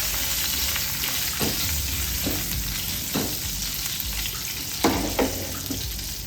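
Curry leaves, a single sprig, crackle and sizzle in hot oil during preparation of an egg curry, a steady close frying hiss punctuated by a few sharper pops and spits.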